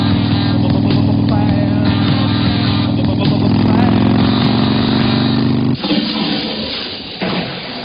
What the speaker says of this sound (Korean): 오토바이를 몰고 떠납니다